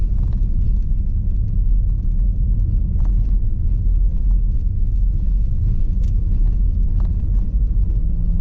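Car driving along a valley road, a loud steady low engine and road rumble heard from inside the vehicle, with no talk.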